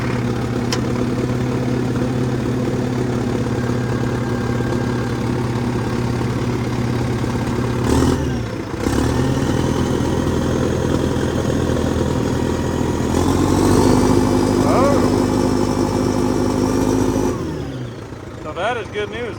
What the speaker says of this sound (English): I'm gonna raise the rippers up, give it a little bit of throttle here.